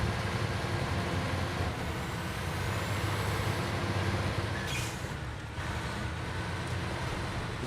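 A twin-steer truck rolling along in SnowRunner, a steady low engine drone and road rumble that holds at an even level throughout, with a short hiss near the end.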